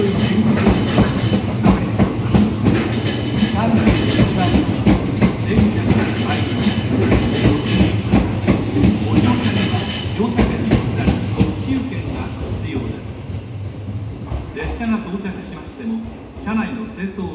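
A JR West four-car limited express train bound for Fukuchiyama rolls into a platform with rhythmic clickety-clack and wheel noise, loud and close, then gradually slows and quiets as it comes to a stop.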